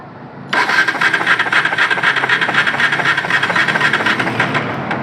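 A motorcycle's electric self-starter cranks steadily for several seconds with its spark plug held against the body, producing a close, loud, rapid whirring and chattering that begins abruptly and continues without pause.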